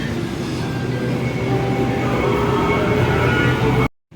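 A train pulls into a station with a loud, deep, continuous rumble and rolling clatter that holds steady and then cuts off abruptly near the end.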